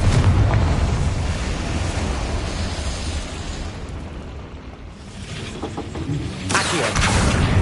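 Confringo fire spell blasts in Hogwarts Legacy, a loud sustained rumbling roar of explosions with a brief dip and a fresh burst near the end, dense and close.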